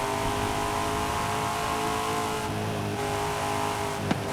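Car engine in Forza Horizon 5 racing on PS5, held in fourth gear: a loud, steady, continuous drone with sustained harmonic tones, close and uninterrupted, with a brief sharp blip near the end.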